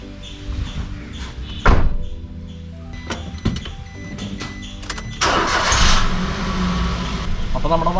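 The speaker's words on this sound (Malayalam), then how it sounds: "അപ്പോൾ നമ്മുടെ വണ്ടി കിടിലായിട്ട് സ്റ്റാർട്ടായിരിക്കുകയാണ്" A car with a freshly charged, previously dead battery is heard first as a few sharp clunks and knocks, then the engine catches and settles into a steady running rumble close by.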